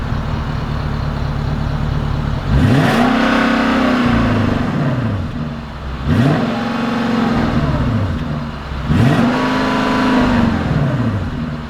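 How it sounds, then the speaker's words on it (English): A 2020 Genesis G90 5.0 sedan accelerates three times in succession, each loud engine surge rising in pitch through the gears with a steady road rumble underneath and no talking. "Let's take the G90 out and see how it drives."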